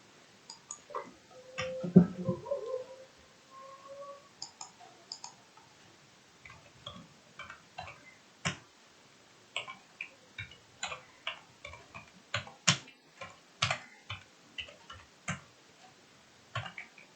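A sentence being written or typed out during an English lesson: light, irregular clicks and taps, close but quiet, with a brief murmur near the start.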